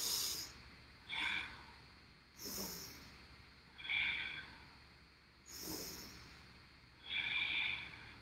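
Slow, forceful exhalations from a person doing a yoga exercise, each breath a soft hissing rush repeating about every one and a half seconds, close and alone without talk.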